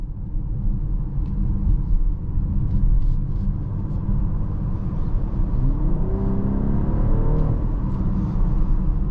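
A 2024 BMW X6 40i driven hard through corners, its engine rumbling and whirring steadily up close, with revs rising and a faint tire or drivetrain whine toward the end.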